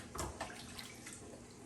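Water runs steadily from a tap while two large jalapeno peppers are rinsed, with a few brief splashes and clatters near the start over a constant soft flow.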